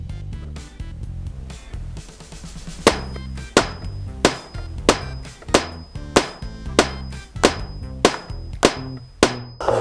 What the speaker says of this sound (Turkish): Bu bir çekiç Nail Baba.